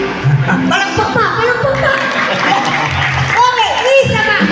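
Audience applause at a fiesta event, with clapping and crowd noise mixed under loud voices and shouting throughout.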